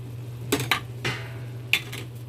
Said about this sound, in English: Now we're stirring this together.